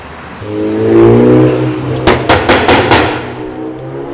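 A car engine revs up loudly, then a rapid series of about five sharp exhaust pops crackles out before settling back to idle.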